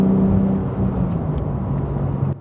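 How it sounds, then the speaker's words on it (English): Porsche 911 Sport Classic (992 generation, turbocharged flat-six) engine with a steady, loud, low droning note at constant revs throughout, alone. "The big 992 turbo sound."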